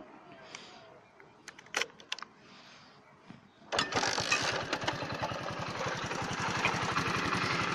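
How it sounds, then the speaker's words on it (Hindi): A Hero 100cc motorcycle engine starts after a few clicks and knocks, then idles at about 800 to 1000 rpm. Its close, steady putter sounds mechanical and rhythmic, and there is no talking. "जैसे कि अभी आप साउंड को ऑब्जर्व कर पा रहे होंगे ये लगभग 800 से 1000 आरपीएम के बीच में सेट है"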